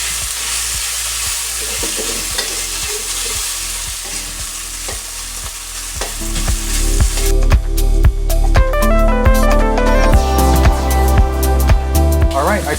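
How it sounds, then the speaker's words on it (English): Pork sears in a hot wok for moo shu pork, sizzling loudly throughout with repeated sharp scrapes and clanks of stirring and flipping, the frying growing busier and louder in the second half. "we want to put a nice sear on the pork and just give it some color"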